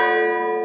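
Sustained metallic gong strike played as a podcast sound effect, a single loud ringing tone with many bright overtones, decaying slowly without any talk over it.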